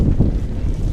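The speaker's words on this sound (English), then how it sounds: "Strong gust of winds here in Brampton." Strong wind gusts buffet the microphone at an outdoor ultimate frisbee match in Brampton, producing a loud, continuous low rumble with no voices.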